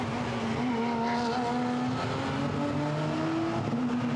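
GT4 race cars, a Maserati and a KTM X-Bow, battle for third place at Misano, engines droning loudly and continuously with rising and falling pitch as they pass close by.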